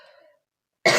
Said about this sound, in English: I'm so sorry to cough.